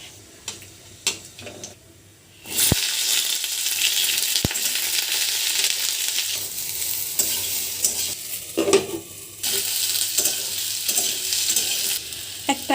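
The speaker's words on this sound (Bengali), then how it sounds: "সর্ষের তেল গরম হয়ে গেছে, শুকনো লঙ্কা, কালো জিরে, এখানে গোটা জিরেও ফোড়ন দিতে পারেন" Dried chillies and nigella seeds hit hot mustard oil with a sudden loud sizzle that keeps frying steadily, crackling and spitting, with a few utensil clicks before and during.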